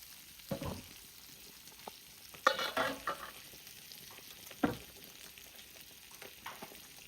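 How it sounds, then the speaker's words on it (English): Sausages sizzle faintly in a pan, with a few louder scrapes and stirring clatters breaking the low, steady frying hiss. "while our sausages are frying"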